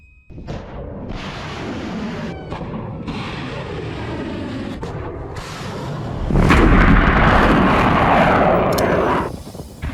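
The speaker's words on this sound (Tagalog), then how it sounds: "niyanig ang iba't ibang bansa sa Middle East nang magkakasunod na pagsabog ng missile at drone attack" Explosions from a missile and drone attack in the Middle East: continuous heavy rumbling with repeated booms, building to a louder, broader blast roar late on, close and loud with no talk.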